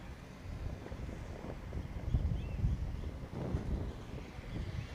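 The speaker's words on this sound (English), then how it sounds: "The wind's picked up just a bit there." Low, rumbling wind buffets the microphone steadily throughout, a continuous blustery roar with slight swells and no voices, on a FootGolf course at the world championship in Acapulco.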